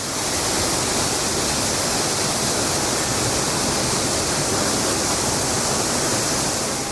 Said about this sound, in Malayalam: തൊട്ടടുത്ത് നിന്ന് വെള്ളച്ചാട്ടം കാണാൻ പറ്റുന്ന സ്ഥലമാണ് ഇവിടെ